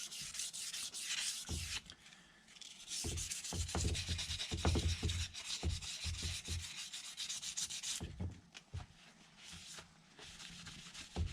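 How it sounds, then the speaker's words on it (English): Sandpaper rubs against the inside of a molded composite bellcrank part in repeated strokes, close and fairly loud, with brief pauses between bursts of scraping friction. "I'll sand the inside of this down."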